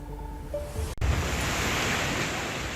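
A rain-swollen river rushing below a trolley crossing in Pithoragarh, Uttarakhand, gives a loud, steady broadband roar of turbulent water, briefly interrupted by a cut near the one-second mark.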